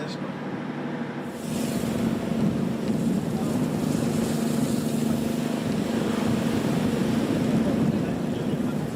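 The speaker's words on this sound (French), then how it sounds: "Il y a un gros vent d'est." Strong east wind gusting at sea off Senegal in the Atlantic, a loud continuous roar buffeting the microphone with a low engine-like hum beneath, constant throughout after a quieter first second.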